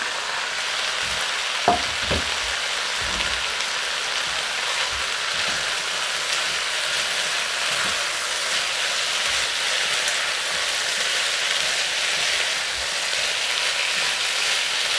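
Chopped onion sizzles and crackles steadily in a hot pan while chicory is cooked, with a couple of faint knocks early on and no voices.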